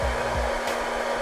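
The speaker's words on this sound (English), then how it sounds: "Even if I tilt the hairdryer in one direction" A hair dryer blows a steady, loud airstream for a little over a second, a continuous whooshing hiss with a low motor hum underneath and no pauses.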